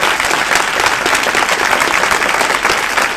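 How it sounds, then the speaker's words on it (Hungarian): Audience at a Hungarian talk with Dr. Gábor Máté on ayahuasca bursts into sustained applause, dense, loud and even clapping from a full room throughout, with no pauses. "szerintem tapsoljuk meg"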